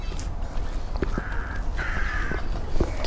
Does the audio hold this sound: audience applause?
no